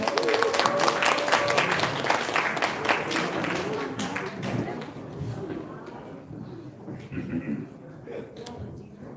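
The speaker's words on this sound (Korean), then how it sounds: "여러분의 큰 박수로 환영해 주십시오." An audience at a business vision concert claps to welcome a cosmetics company CEO to the stage, strongest at the start and then thinning into scattered claps mixed with murmuring and speech.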